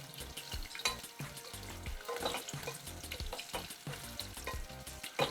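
Small potatoes for aloo dum fry in oil over a full gas flame, giving a steady close sizzle with repeated scraping and stirring sounds and no talking.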